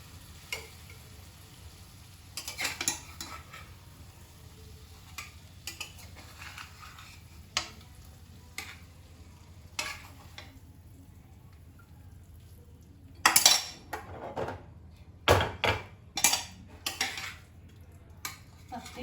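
Tilapia fish curry being transferred from a pan into a serving dish, with scattered clinks and scrapes of a utensil against cookware, quiet at first and then louder clatters near the end, with no talking.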